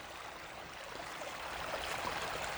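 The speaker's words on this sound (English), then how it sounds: "This is the creek here that" Falling Springs Creek, near the Falling Springs Reservoir in Lackawanna County, Pennsylvania, runs upstream of a large waterfall. Its flow is a soft, steady hiss of water with no voices, faint and even throughout.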